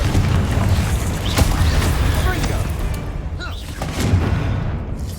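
Bombarda exploding spell cast in Hogwarts Legacy, a dense booming blast rumbling through a loud, continuous wash of game noise with scattered sharp cracks, a second swell of impact near the end.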